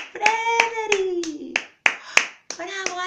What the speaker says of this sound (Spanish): todos los ratones se pusieron a aplaudir